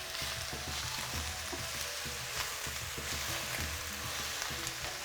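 Cabbage and vegetables for chan chan yaki sizzle steadily in a hot pan, with a hissing frying background and irregular scraping clatter as they are stirred and broken up, close and continuous without talking.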